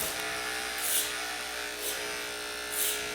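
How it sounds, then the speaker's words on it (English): Electric hair clippers buzz steadily while cutting hair over a comb during a men's faux hawk haircut, the hum swelling briefly three times as the blades pass through the hair. "I really like to use the clipper over comb."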